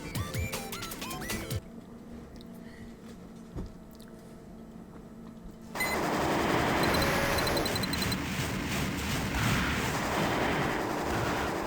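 Video game machine gun fire in Armored Core, a dense, steady rattle under game music and effects, building louder midway and continuing to the end.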